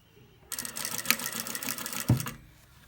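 A sewing machine stitches along a seam on a skirt panel for a flared skirt with cut panels, running in one steady, close, continuous burst of about two seconds before stopping.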